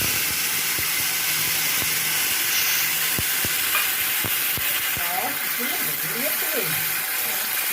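Spice paste tipped into hot oil already seasoned with nigella seeds, asafoetida and dried red chilli, sizzling and hissing steadily in the pan, with sharp clinks of stirring throughout and a voice talking over it.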